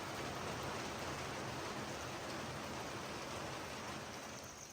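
Heavy monsoon rain pours down steadily in a village, a dense, loud, unbroken hiss filling the whole stretch with no voices.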